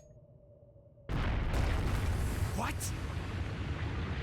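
A bomb in the video game Trails of Cold Steel sets off a sudden loud, broadband roar after a quiet moment, then sustains a dense rumbling wash, while a voice briefly speaks over it.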